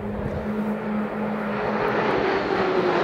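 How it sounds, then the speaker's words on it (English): A Pilatus PC-9 propeller trainer from a formation aerobatic display team flies past at a military gala day, its engine a steady, loud drone with a slowly shifting pitch, heard alone for about three seconds. "So the aircraft that the guys are flying is a Pilatus PC-9"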